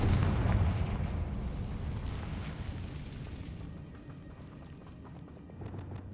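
A Confringo fire spell bursts in Hogwarts Legacy, a booming blast at the start that decays into a fading, crackling rumble over several seconds, with no talk.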